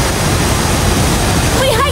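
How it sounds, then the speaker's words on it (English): A powerful Icelandic waterfall reached after a hike roars loud and close as a dense, unbroken rush, with a voice briefly rising over it at the end. "We hiked all the way up to this amazing waterfall!"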